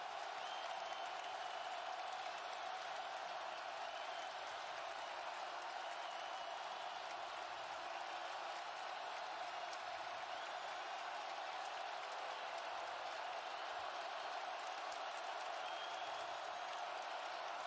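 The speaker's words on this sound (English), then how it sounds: "listen to this Spartan crowd now" A large crowd roars continuously from a distance, a broad steady wash of cheering and applause with no break, in a college football stadium at a Michigan vs Michigan State game.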